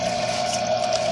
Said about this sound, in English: I want to wash this alternator really good.